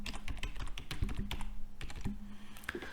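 Rapid, close clicking of keys on a computer keyboard as a password is entered, irregular quick taps with a few louder strikes, soft and uninterrupted.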